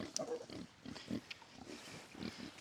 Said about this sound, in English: Kune Kune pigs are pretty friendly and sometimes a little too friendly